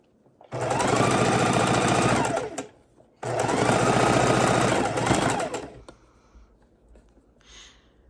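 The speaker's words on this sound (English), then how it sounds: "So I'm kind of making an X like this with my stitches." A sewing machine stitches back and forth across the corner of a fabric bowl in two long, loud, fast-running bursts separated by a short pause, then stops, with quiet handling afterward and no speech.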